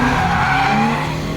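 A front-engine, rear-wheel-drive car accelerating hard lets out a loud, sustained tire squeal, a steady screech that holds for about a second and a half, up close.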